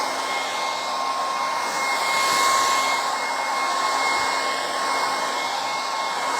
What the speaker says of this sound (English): And I'll hit that with a hairdryer before adding it over here.